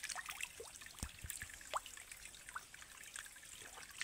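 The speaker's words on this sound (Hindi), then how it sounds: "तो दोस्तों अब मैं पानी पीने वाला हूँ, ये आप देख सकते हैं," Drinking water trickles and drips in a dense Jharkhand forest, faint irregular plinks and splashes over a steady background hiss.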